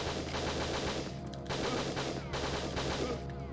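Rapid gunfire and explosive shots ring out in the video game Winback: Covert Operations, including a sniper shot, dense and continuous over steady game background noise.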